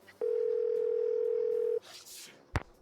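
A steady telephone dial tone from a Nancy Drew video game (Legend of the Crystal Skull) sounds alone for about a second and a half, then cuts off, followed by a faint rustle and a short click.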